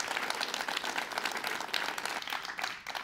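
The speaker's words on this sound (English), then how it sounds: "Ladies and gentlemen, another round of applause for her." Audience applause after a young girl's first performance in front of a crowd, a steady dense wash of many hands clapping, moderately loud and even, fading slightly near the end.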